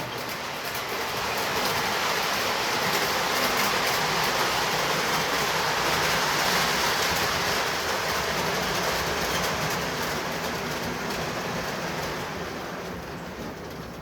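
A model train runs steadily on the track, a continuous close rumbling whir that swells and then eases slightly toward the end.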